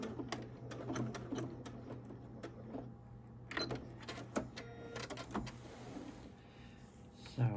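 A sewing machine stitches a candlewick quilt in short repeated runs of rapid mechanical whirring, close and moderately loud, broken by pauses and small handling clicks, with a steady motor hum underneath.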